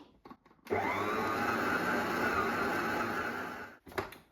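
Electric mixer on slow speed mixing waffle flour batter in a bowl, giving a steady close motor whir for about three seconds after a few brief knocks, then cutting off.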